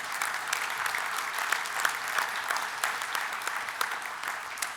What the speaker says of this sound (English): you all deserve a round of applause for Kentucky Proud Park